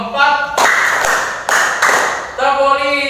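A class clapping together in a counted pattern, sharp bursts of group claps alternating with gaps where a voice chants the count over them, loud and close in a classroom.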